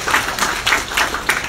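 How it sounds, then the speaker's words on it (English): An audience applauding, a dense wash of many hands clapping with slight rhythmic surges, fairly loud and close, with no talk over it. "please give them a big round of applause for me"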